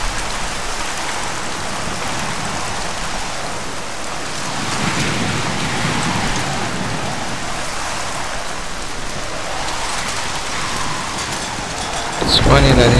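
Steady, heavy rain falls in the Mafia video game, a continuous loud hiss of downpour with thunder-like rumbles, ending in a sudden louder burst.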